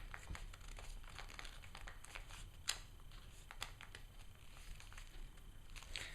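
Paper crinkles and rustles while being folded into an origami three-vehicle transforming spaceship, a steady close run of soft crackles with one sharper crinkle partway through and no talking.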